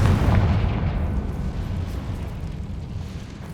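A Confringo fire spell from Hogwarts Legacy detonates, a loud deep rumbling blast that starts strong and slowly decays over a few seconds, with no talking.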